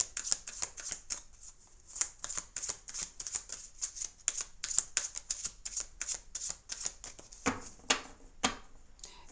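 Oracle cards are shuffled in quick repeated riffles, a crisp flutter of papery snaps in a fast, irregular rhythm, close and fairly quiet, with no talking.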